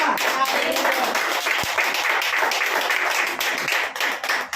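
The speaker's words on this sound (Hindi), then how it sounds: "क्या अपने प्रभु के ताली बजा सकते हैं?" A church congregation claps for the Lord during a Hindi-language worship service, with dense, continuous applause from many hands close by, carrying on steadily and thinning slightly toward the end.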